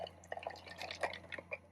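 Liquid from a 400 gram tin drips and trickles into a pot of cashews for a vegan korma, soft, close glugs and splats in an irregular patter.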